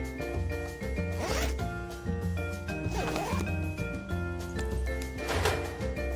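A metal locker door opens with a zipper-like scrape and rub in the Cyanide & Happiness Freakpocalypse video game, heard over steady background music with sustained tonal notes.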